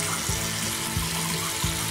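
Tap water runs steadily into a basin while its temperature is checked, a constant hissing splash with a few soft low thumps of a hand moving through the stream.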